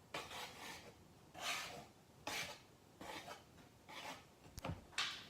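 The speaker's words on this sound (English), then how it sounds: "And you can just whisk that all together." Flour and salt whisked together in a bowl for Filipino pandesal, a scratchy rasping stir that comes in five or six quiet bursts with short pauses between them and no talk over it.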